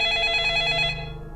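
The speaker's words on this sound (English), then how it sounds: "The sudden ringing of the phone startled everyone in the room." A telephone ringing, one loud, steady electronic ring lasting about a second before it cuts off and fades away.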